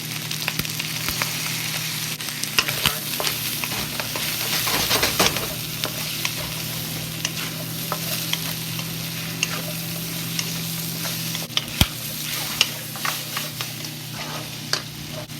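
Chicken pieces with soy sauce fry in a pot, a loud continuous sizzle full of crackling pops and spits throughout.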